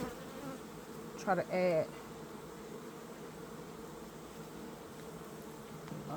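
Honey bees hum steadily at an open hive during an inspection, a dense continuous drone throughout, with a brief spoken phrase near the start.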